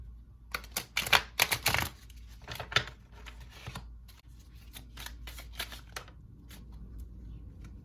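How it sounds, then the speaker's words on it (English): Tarot cards being pulled and laid down one after another for a nine-card reading, giving close, crisp flicks and papery snaps in quick irregular bursts, then softer scattered taps. "We're pulling 9 cards."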